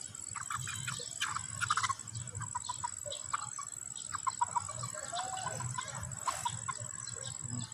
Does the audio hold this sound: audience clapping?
no